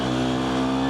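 Loud, close motorcycle engine pulling in second gear, a brief, steady, buzzing drone with no break.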